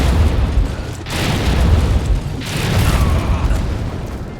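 Heavy bomb blasts in Monster Hunter World: Iceborne set off against a sleeping monster, two loud booming explosions with rumbling tails rolling over each other, dense and close.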